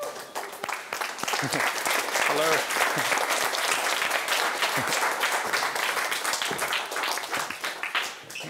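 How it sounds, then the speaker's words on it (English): An audience rises to its feet and applauds a guest at a startup interview event, sustained dense clapping throughout, with a brief greeting spoken over it. "give Mike a round of applause"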